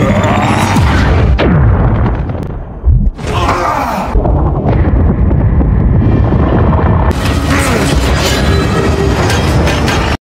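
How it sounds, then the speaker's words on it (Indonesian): A deep boom erupts amid loud, continuous rumbling and crashing debris, dense and close. "Rupanya ledakan itu tidak begitu besar"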